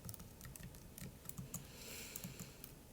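Typing on a computer keyboard during an accounting lecture, a quiet, steady patter of soft key clicks running throughout without any speech.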